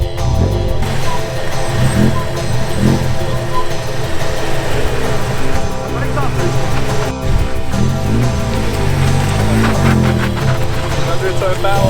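A fire-damaged car, newly restored, runs under its own power with a loud engine rumble beneath excited voices and cheering.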